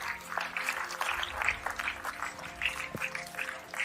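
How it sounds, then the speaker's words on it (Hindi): A crowd claps steadily with a bright, crackling texture, moderately loud and continuous throughout. "एक जोरदार तालियां"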